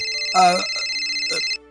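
A cellphone ringtone plays a bright, electronic tone that rings steadily, then cuts off abruptly, with a voice briefly speaking over it.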